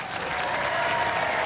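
A studio audience claps steadily and loudly for Robot Wars competitors before a fight, a dense, continuous burst of applause.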